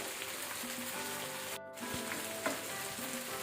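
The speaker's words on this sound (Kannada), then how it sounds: "ಸೊ ಹೈ ಫ್ಲೇಮಲ್ಲೇ ನಾನು ಇದನ್ನು ಫ್ರೈ ಮಾಡಿಕೊಂಡೆ." Chicken pieces frying over a high flame in a pan, a steady close sizzle that runs unbroken, with a brief dip partway through and a few small pops and clinks.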